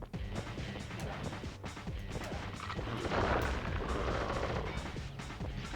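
Gunfire in the Sly Cooper video game, a dense continuous run of shots and crashes with a loud stretch in the middle, no talk over it.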